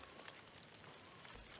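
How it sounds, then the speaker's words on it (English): Steady rain falls in the video game Ghost of Tsushima, a soft continuous hiss of drops on surfaces at low volume with no voices. "Got a bit of rain going on here."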